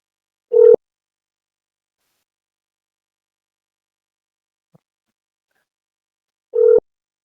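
A phone call being placed produces two short, identical tones about six seconds apart, clear and isolated against near silence, with a faint click between them.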